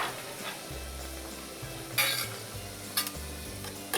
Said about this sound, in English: then you're going in with your orange juice